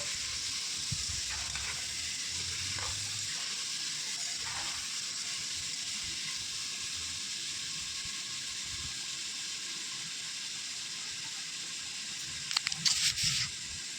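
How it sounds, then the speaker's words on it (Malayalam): Washed mutton sautéing in a pan for a Kerala-style roast, a constant low sizzle and hiss with faint stirring, and a short burst of scraping near the end. "ശേഷം നന്നായി വഴറ്റി കൊടുക്കാം"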